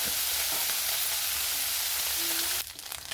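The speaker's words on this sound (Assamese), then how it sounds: "আৰু মোৰ মাছখিনি ভাজা হৈ গৈছে" Small fish frying in hot oil for Assamese chana khar, a steady dense sizzle close up that cuts off abruptly near the end.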